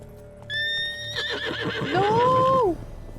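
A horse in The Witcher 3: Blood and Wine lets out a long, loud whinny that rises and wavers, ending in a second drawn-out neigh, with faint hoof clatter and game ambience behind.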